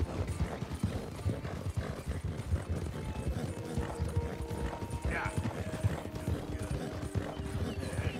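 Galloping hooves of a horse in a video game, a steady rapid clip-clop running close and continuous for the whole stretch, with a brief whinny-like tone midway and faint talk underneath.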